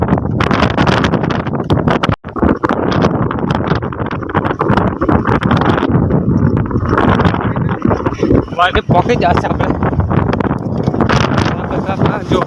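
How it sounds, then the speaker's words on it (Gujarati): Strong wind from a sudden storm gusts across open farm fields, roaring steadily and buffeting the microphone throughout, with people talking over it. "જો પવન"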